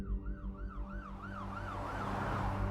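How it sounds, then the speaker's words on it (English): An ambulance siren wails in a rising and falling cycle, heard as a sound effect in a true-crime podcast, with a deep engine rumble underneath and the siren growing louder and nearer over a few seconds. "Minutes later, an ambulance arrived, followed by a fleet of police cars."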